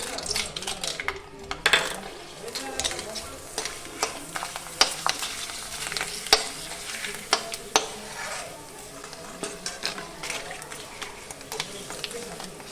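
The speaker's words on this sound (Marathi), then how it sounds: "तेल गरम झालं, आता चिप्स टाकूया आता" Homemade potato chips dropped into hot oil sizzle close by, while a utensil repeatedly clanks and scrapes against the pan and people talk over it.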